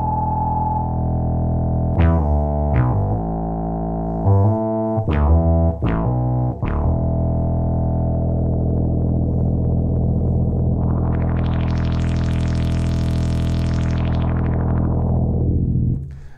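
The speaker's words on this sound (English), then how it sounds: "subtly you can get just really nice saturated distortion effects" A Moog Minitaur analog synthesizer plays a sustained bass tone with saturated distortion, broken by several sharp stabbing notes early on, then a rising and falling filter sweep before the tone fades at the end.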